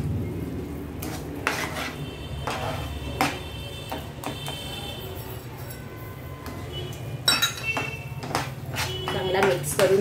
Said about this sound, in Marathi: चांगला मिक्स करून घ्या साखर सगळीकडे लागेल